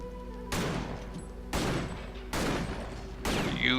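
Continuous gunfire from the Victor Vran action game plays as four sharp bursts of shots, each launching a dense, loud stretch of rapid fire that runs on until the next one, with no talk heard.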